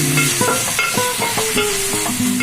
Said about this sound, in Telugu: ఉల్లిపాయలు, పచ్చిమిరపకాయలు, కరివేపాకు వేసుకొని కొంచెం అది గోల్డ్ కలర్లో వచ్చేసి